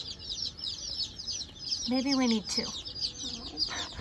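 Barred Rock chickens cluck and chirp in a farm supply store, a steady chatter of bird calls close by, with people talking over them in the middle.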